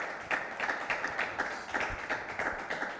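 A small studio audience on a TV show set claps for an arriving guest, with scattered, rhythmic hand claps at moderate distance and no talk.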